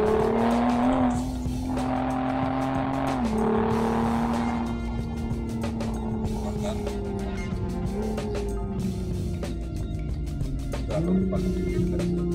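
A Toyota GR Supra accelerating hard, its engine note loud and close, climbing steadily in pitch and dropping at several gear shifts over a constant road roar.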